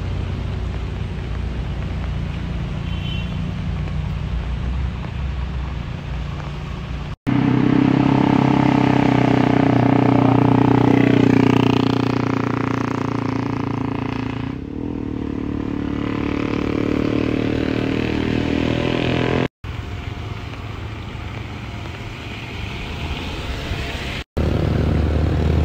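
Heavy, slow-moving traffic of small cars climbs the Pletes hill in late-afternoon rain: a steady, loud engine drone with rumbling low tones that swells sharply partway through and continues with only brief breaks.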